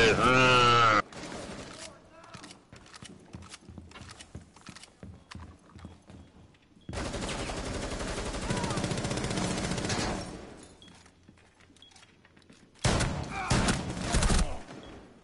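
Rainbow Six Siege gunfire: loud, close rattling bursts, a sustained stretch of automatic fire and then a shorter later burst, between quieter clattering stretches.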